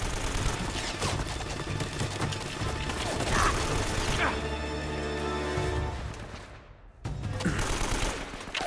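Gunfire in the video game Uncharted: Drake's Fortune rattles in rapid bursts mixed with mechanical clacking, sustained for several seconds, dropping out briefly and then resuming.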